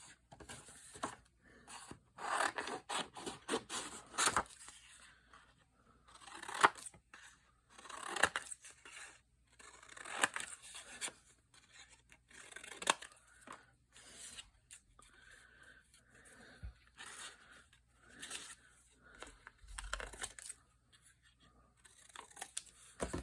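Scissors snip out paper dragonfly shapes for a journal page layout in close, irregular runs of crisp cuts and rustles, with short pauses between clusters and no talking.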